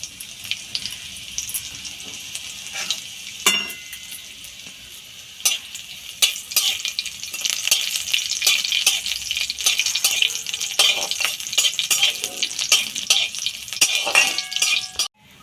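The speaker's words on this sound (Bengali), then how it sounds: "রসুনটা যখন হালকা লাল ভাজা হয়ে যাবে" Chopped garlic and halved dried red chillies sizzle in hot oil with cumin in a pan, a steady frying crackle broken by sharp scraping stirs and clinks of a utensil, with no talk.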